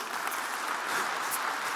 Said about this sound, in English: Yeah, you can clap for that, absolutely.